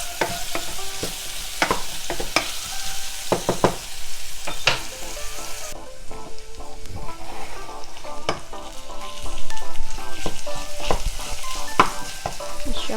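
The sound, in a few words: onions frying in a pot for beetroot soup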